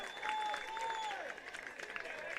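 Crowd applause at a state league baseball game between the Ryde Hawks and Cronulla after a hit down the left field line, a light, distant patter of clapping with faint whistles over open-air ambience.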